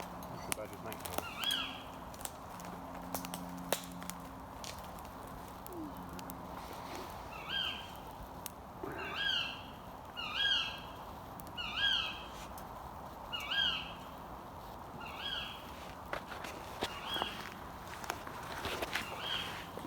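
A distant owl calls in a repeated series of hoarse, evenly spaced hoots in the middle stretch, in dark woods at night, over faint rustling footsteps and low background murmur.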